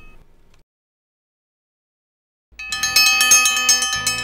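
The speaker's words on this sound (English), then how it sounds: "When the dinner bell rings" A dinner bell rings out loud and close with a rapid series of bright metallic strikes that ring on and overlap, following a short burst of sound and a couple of seconds of silence.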